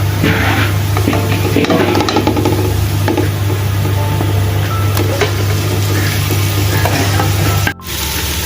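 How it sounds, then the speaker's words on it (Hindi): Loud, close sizzling of chicken frying in a pan with onion, garlic and ginger, crackling steadily with occasional stirring scrapes and a low background hum. "इसको भी अच्छे से लहसुन अदरक के साथ प्याज के साथ ही फ्राई कर लेना है"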